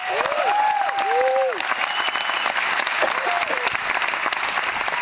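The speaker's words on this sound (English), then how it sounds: "give yourselves a round of applause" Audience applause at a leadership talk, steady crowd clapping under cheering voices, with whoops and shouts over the first seconds.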